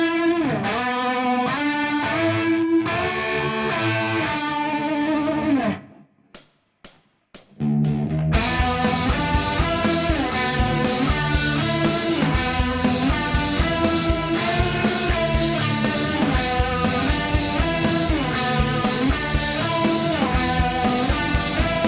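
A distorted electric guitar lead tone from a Fractal Audio FM3 plays a sustained lead line, then stops for a few muted chugs before a heavy, dense riff with full band takes over.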